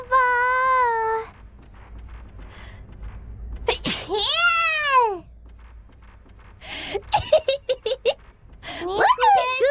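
A VTuber lets out several voiced sneezes in sequence, high-pitched squeaky 'achoo' bursts with sharp breathy releases and gasps between them, close and loud, mixed with cute vocalizations and a rapid string of short staccato sounds near the end.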